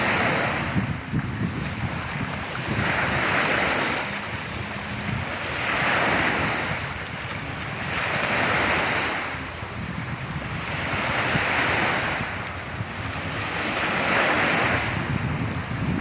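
Surf rolls onto a clean beach in steady, repeating surges, each wave swelling and receding every couple of seconds, with wind buffeting the microphone throughout and no voices.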